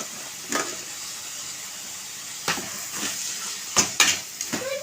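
Chicken pieces sizzle softly in a hot pan while a utensil scrapes and clinks against the metal in a few irregular strokes.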